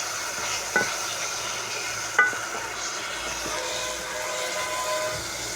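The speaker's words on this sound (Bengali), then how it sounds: "এটা একটু ভেজে নিচ্ছি" Chicken curry gravy thickened with ground peanut paste is stirred and fried in a pan. A steady low sizzle runs throughout, and two sharp scrapes of the utensil stand out near the start.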